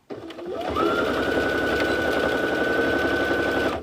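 A sewing machine runs steadily stitching fabric for a boxy bag, a close, continuous whirring buzz that spins up quickly from a brief start and holds an even pitch before stopping abruptly.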